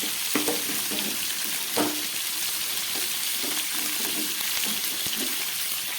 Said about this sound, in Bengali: আলুগুলো ভাজা হয়ে গেছে, আমি তুলে নিচ্ছি